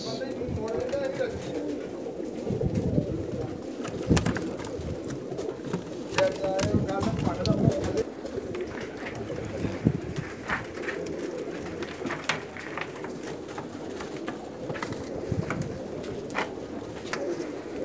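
Pakistani banke pigeons coo softly in a loft in Jeddah, Saudi Arabia, with a steady murmur of calls across the whole stretch and people talking nearby.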